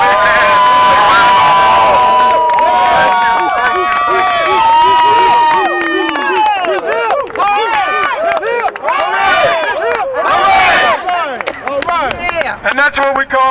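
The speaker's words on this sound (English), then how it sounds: "And that's what we call a letter carrier cheer" A large rally crowd roars with loud cheering, whoops and rhythmic chanting, dense and close, with clapping and shouted voices throughout and no lull.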